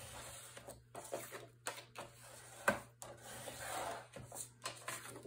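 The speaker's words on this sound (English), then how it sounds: "Then we're going to fold on that score line and burnish." A folded paper score line on a vintage library mini album page is burnished with quiet, close, repeated rubbing strokes in short uneven bursts.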